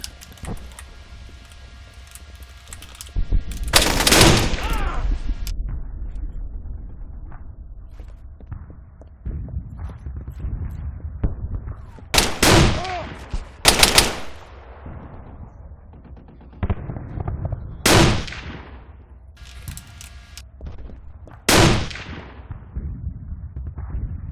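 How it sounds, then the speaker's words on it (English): A modded gun in Arma 3, a WWII-era mod, fires a series of loud, sharp reports with long echoing tails, spaced irregularly over a low background hum. "Alright, demonstrate this gun. It's got a decent sound to it."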